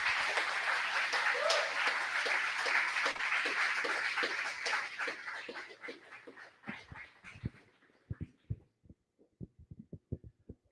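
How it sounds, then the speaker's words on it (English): Audience at a rocket launch competition closing ceremony applauding an award-winning university team, with steady dense clapping that thins into a few scattered, separate claps at the end. "So round of applause for University of Alberta."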